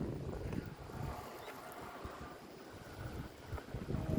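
Wind gusts across a seaside breakwater at dawn, a faint, rough rumble buffeting the microphone in uneven bursts, with no clear voices.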